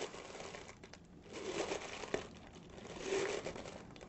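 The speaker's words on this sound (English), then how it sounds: "grasp the bottom of the plastic bag and invert, and then pull down on the plastic bag" A plastic bag crinkling faintly as it is pulled down over a balloon lung model, soft rustling and crackling in quiet surroundings.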